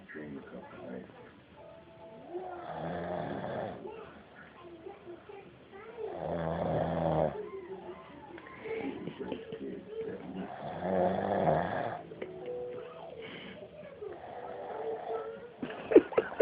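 A sleeping man snores in slow, rhythmic rasping breaths that recur every few seconds, fairly close and moderately loud, with occasional faint background voices.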